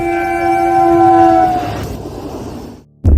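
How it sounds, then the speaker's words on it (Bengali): Train sound effect in a horror audio drama: a loud, sustained train horn blast fades into the rumbling roll of a passing train, then cuts off abruptly. "শুধু কানের কাছে আবার একটা ট্রেনের শব্দ পেল"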